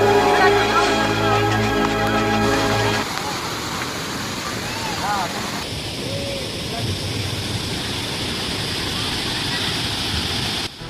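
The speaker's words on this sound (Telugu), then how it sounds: "పచ్చని కొండల మధ్యలోని ఆ సెలయేళ్ల సౌండ్ చాలా బాగుంది" Rushing stream water at Kothapalli waterfall among green hills in Araku valley. After about three seconds of music, a dense continuous roar of flowing water sets in, with faint chirps over the steady wash.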